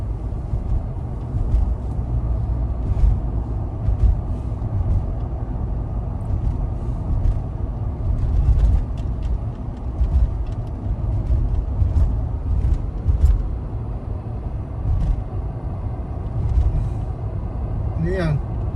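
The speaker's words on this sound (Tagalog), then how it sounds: "Sasakyan." Vehicles drive along a slippery road, a continuous low rumble of passing traffic with scattered clicks and knocks, and people talk intermittently over it.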